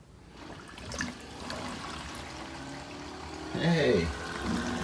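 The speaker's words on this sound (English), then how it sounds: "the first thing it's going to do is try and drain the water" An LG dishwasher showing an OE fault drains its water, a low, steady trickle and gurgle running throughout, with a louder pouring surge near the end. People talk faintly over it.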